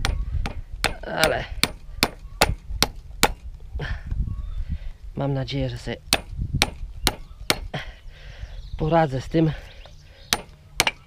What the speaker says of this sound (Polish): Trochę za duży młotek wziąłem